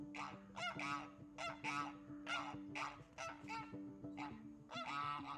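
Dewlap Toulouse geese honk repeatedly nearby, loud nasal calls in short bursts of one to three notes, several birds overlapping at a steady pace.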